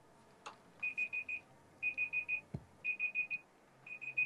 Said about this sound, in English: Oh, that's our alarm.